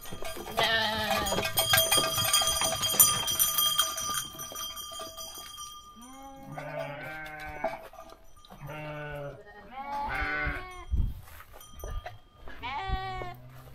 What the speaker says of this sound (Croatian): A tu su ovce.